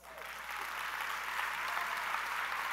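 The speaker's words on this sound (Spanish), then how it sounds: "hay padres que son madres también y para ellos un aplauso" Audience applause swells in and holds steady, a soft, even wash of clapping heard at a distance at a live event.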